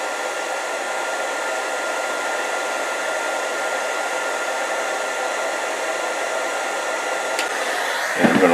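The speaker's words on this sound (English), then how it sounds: "I just happen to love this heat gun." A heat gun blows continuously in a loud, even hiss while shrinking tubing over sewing machine motor wiring, with a short clatter at the very end.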